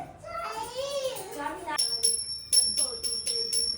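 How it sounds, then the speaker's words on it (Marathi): A small worship bell rings in quick repeated strikes before a home aarti, bright metallic tones layered under a voice. "बाप्पाची घंटा वाजवायची"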